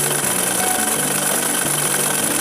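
A sewing machine stitches a kameez, running as a loud, steady mechanical whir with a rapid even buzz throughout and no talking.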